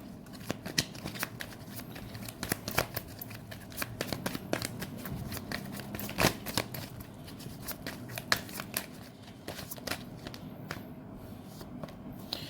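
Tarot cards being shuffled by hand, a quiet run of crisp riffling flicks and soft slaps repeating irregularly, close and fairly faint, with no voice over them.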